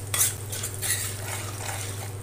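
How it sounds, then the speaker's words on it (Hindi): A dry spoon stirs turmeric, salt and other pickle spices through lightly warm oil in a pan off the flame, giving a soft continuous scraping and clinking, close and fairly quiet, with no voices. "मसाले को चलाने के लिए सूखे चम्मच का इस्तेमाल करें, चम्मच में पानी ना लगा हो।"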